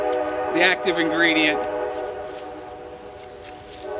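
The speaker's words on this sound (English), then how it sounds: "Pardon the train." A passing train sounds a long, loud steady horn with stacked harmonic tones, heard nearby under someone talking about household bleach.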